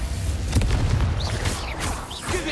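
An Expulso explosion spell in the Hogwarts Legacy video game lands as a run of booming magical blasts with rumbling low-end impacts, mixed with whooshing spell effects and game sound throughout.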